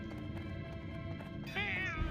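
Game cats meowing and caterwauling in a drawn-out, wavering cry that swells near the end, heard over busy background game sounds and faint voice chat.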